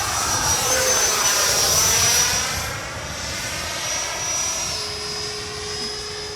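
A Freewing 90mm Eurofighter RC jet with its gear down makes a low, close pass. Its electric ducted fan gives a steady, loud, broadband whoosh with a thin tonal whine that shifts pitch partway through.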